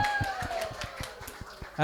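A small group claps in a quick steady rhythm for a birthday during a Christian student worship gathering, the claps sitting under a voice that keeps talking over them.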